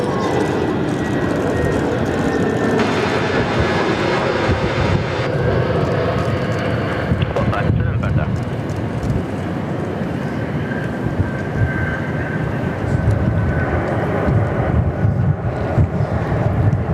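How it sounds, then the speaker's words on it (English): An AirAsia airliner in a special livery, inbound from Jakarta at Perth Airport, rumbles with a steady broadband jet roar that holds loud for the whole stretch, mixed with wind buffeting on the microphone. "Here's our Special Air Asia, Kurt. Yeah, it is. Yep, here they are. Inbound from Jakarta."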